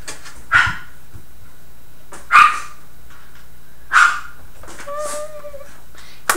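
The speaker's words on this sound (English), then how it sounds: "It's really my little dog." A small dog barks three sharp, loud single barks spaced well apart, then gives a brief whine at the end, indoors and close to the microphone.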